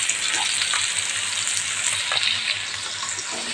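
Fish frying in a pan gives a steady, soft, close sizzle with faint crackles running throughout, and no talking.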